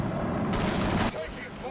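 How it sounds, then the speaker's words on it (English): Rattling bursts of gunfire from a Warhammer 40,000 battle between Orks and Blood Angels, a dense volley swelling in the middle before cutting back to a quieter din, with voices murmuring underneath. "Taking fire."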